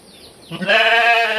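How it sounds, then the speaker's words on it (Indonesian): A goat bleats on a farm plot on a hillside, a single close, loud, wavering cry that rises in after a quiet moment and holds steady to the end. "kambing saya."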